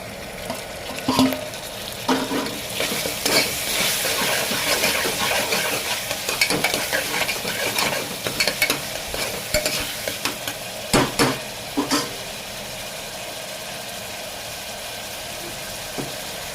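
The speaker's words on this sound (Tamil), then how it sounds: "வெங்காயம் வதங்கின உடனே தக்காளி ஆட் பண்ணிக்கோங்க." Onions and tomatoes stir-fry for mutton kulambu in a pan, a continuous loud sizzle with repeated spatula scrapes and metallic knocks near the start and around the middle, then settling into an even frying hiss.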